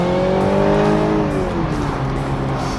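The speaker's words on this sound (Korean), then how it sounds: "스포츠 모드로 변경하니까 배기음도 살짝 커지고 이게 또 팝콘음이 들어가네요" A BMW Z4 sDrive20i revs nearby in sport mode, its tone sliding downward as it eases off, with a crackling exhaust burble beneath the steady drone.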